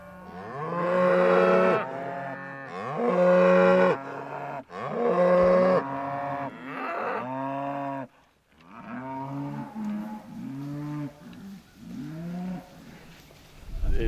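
Cattle on winter pasture moo loudly and repeatedly, several long low calls in a row, close by, followed by a few shorter, softer moos.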